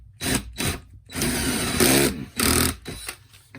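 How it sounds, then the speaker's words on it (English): A cordless drill whirs in several bursts, drilling upward from underneath a model railway layout, spinning up and stopping with short pauses between, close and loud, with no talking. "I'll go ahead and drill from up underneath."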